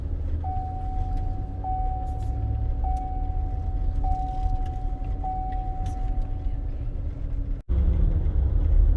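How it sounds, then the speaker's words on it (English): Slow, nearly stopped traffic on top of the 210 bridge during Hurricane Ida preparations gives a steady low rumble of engines heard from inside a vehicle, with a repeating soft tonal beep and a brief dropout near the end. "Traffic is at almost a standstill."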